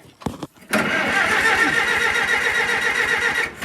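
A Massey Harris 44 tractor with its choke slightly pulled cranks with a couple of brief churning turns, then catches and settles into a loud, fast, steady chugging idle that runs on evenly before dropping off at the end.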